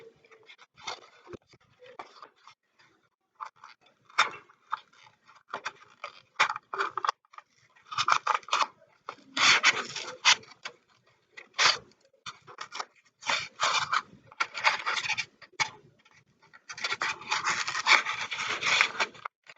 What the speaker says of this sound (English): pretty much we're going to cut out each individual shape